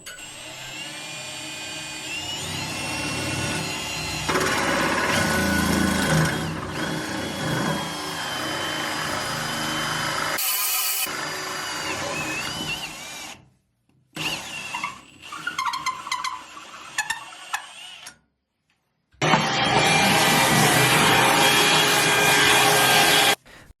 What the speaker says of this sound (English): I'm going to drill the hole for the faucet now.